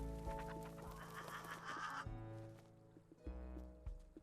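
Clucking chickens, a delicious variety of fowl in the video game Let Me Cook, sound at low level alongside steady tonal game music, with soft clucks and bird-like calls.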